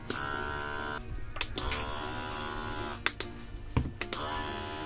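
An electric gallon-bottle water pump running after a battery upgrade gives a steady, close motor whine, broken by several sharp clicks and knocks.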